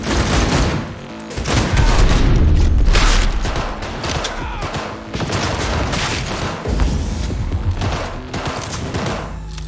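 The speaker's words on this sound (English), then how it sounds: "Fucking grenade!" Chaotic in-game combat from Cyberpunk 2077 with a grenade blast amid rapid gunfire and booming impacts, dense and loud throughout with no pause.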